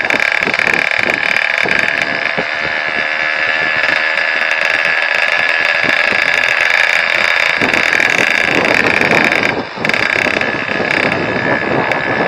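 A Yamaha YT115 motorcycle rides along a road, its engine a loud, steady drone close by with a constant buzzing tone, dipping briefly once before resuming.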